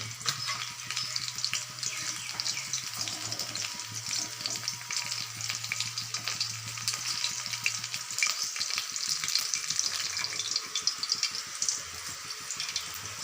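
Rohu fish fries in a wok with a continuous, busy crackling sizzle that holds at a steady level the whole way through, close up, with a low hum underneath and no speech.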